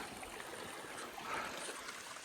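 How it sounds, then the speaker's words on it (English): A small mountain creek along a Sierra trail flows in a soft, steady wash of trickling water, faint and continuous with no voices. "Nice little creek."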